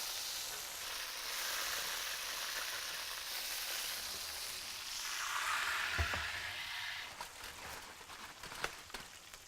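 Turkey thigh and leg searing in a hot pan for a wood-fired sous vide dish, a steady loud sizzle throughout that swells midway, with a few sharp clatters toward the end and no talk.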